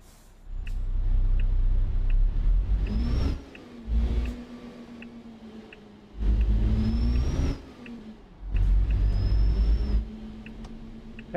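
A Ford Cargo truck engine in Euro Truck Simulator 2 revs up loudly three times in close succession, each burst climbing in pitch as the truck pulls away, separated by short idling lulls with no talk.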